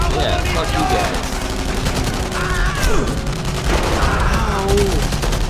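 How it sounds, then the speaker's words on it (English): Gunfire in the video game Enemy Front, dense rattling bursts of shots layered over a loud, busy battle soundscape, with voices speaking over it. "Who is shooting me?"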